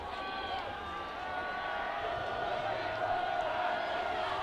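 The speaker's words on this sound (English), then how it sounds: "The Olympus crowd getting loud here." High school football crowd cheering for Olympus against Cedar Valley: a dense, rising roar of many voices with whoops and shouts, moderately distant and building in intensity across the few seconds.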